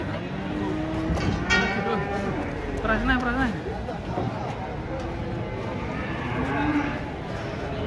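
Sacrificial cattle being unloaded from a truck moo several times, close and loud, over a busy outdoor background with people talking.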